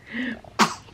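A single sharp sneeze bursts out near the end, preceded by a brief voiced intake, close and loud.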